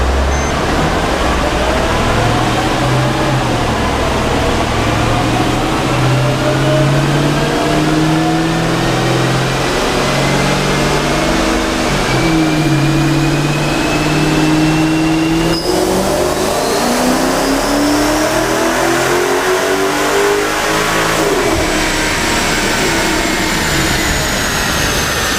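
A modified Mercedes-Benz E55 AMG V8 roars on a dyno, climbing through long sustained pulls with rising pitch, easing off and building again, loud and close with a faint whine above the engine note.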